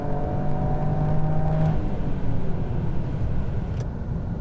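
Toyota GR Yaris, a four-wheel-drive car, accelerating hard up toward 120 km/h: a loud, steady engine roar with rising whine held close and continuous, with no talk over it.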